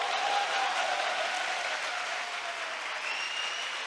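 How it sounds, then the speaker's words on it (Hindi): Steady, dense applause from a church congregation clapping for the Lord during a sermon, sustained and fairly loud throughout with no break, a crowd of many hands clapping at once. "give a good clap for the Lord"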